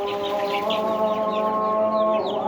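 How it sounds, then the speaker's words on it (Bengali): Chickens in an 800-square poultry farm shed, clucking steadily and continuously as a dense flock chorus with a constant low hum underneath. "এই যে মুরগির খামারটা"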